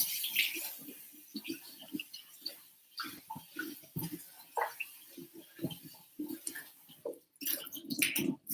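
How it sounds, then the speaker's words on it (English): Rice being washed by hand in water: uneven swishing, squelching and splashing strokes at close range with short pauses, a louder burst of sloshing at the end. "You want to wash the rice nice and get all the dust off it."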